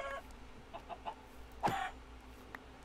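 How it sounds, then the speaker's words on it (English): A single short squawk from a Minecraft chicken stands out over faint background noise, preceded by a few soft clucks and clicks. "And I hear a chicken."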